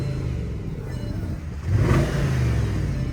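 A 2025 Bentley Flying Spur Speed revs with its exhaust valves barely opening, a steady engine drone that swells into a louder, rising rev about halfway through and holds there, heard from close by with no talking.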